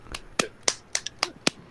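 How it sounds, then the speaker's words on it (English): Six sharp, separate hand claps ring out at a slightly irregular pace in a quiet room, each one crisp and close. "Are you clapping?"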